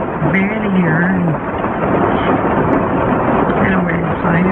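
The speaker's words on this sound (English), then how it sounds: "It's raining pretty hard" Heavy rain hammers steadily and loudly around a van at night, a dense continuous roar, with a voice speaking faintly underneath.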